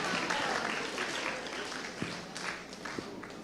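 An audience at a high school spoken word competition applauds after a performer's scores are read. The clapping is a steady, dense wash from the whole room, with a few sharper individual claps standing out.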